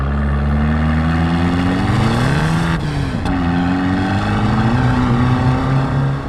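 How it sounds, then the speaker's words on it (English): A Fiat Abarth 695 Tributo Ferrari revs hard in first gear with loud, close engine drone rising in pitch, a brief dip near the middle, then climbing again; wheel spin is not distinctly audible. "You can hear the wheels spinning a little bit because of the power to weight ratio."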